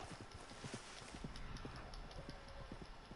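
Horse hooves clip-clop at a steady walking pace in the video game Red Dead Online, a rhythmic run of close, distinct hoof strikes over a faint background hiss, with no talking.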